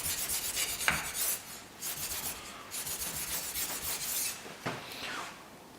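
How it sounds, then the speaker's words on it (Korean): A sashimi knife scrapes across a 1000-grit whetstone in slow, repeated strokes, each gritty rub close and fairly quiet, with no voices. "그 1000번 숫돌에 이제 칼을 갈아가지고"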